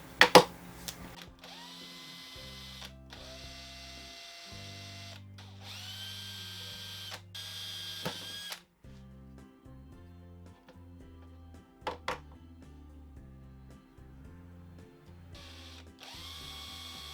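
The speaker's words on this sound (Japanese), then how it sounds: "で後から取り外しができるように小ボルトで固定しますので、ここに穴を開けます。" Power drill boring holes in a fence for a drill guide jig, several separate whirring bursts that rise and fall in pitch, with short knocks and clatters between them, close and clear.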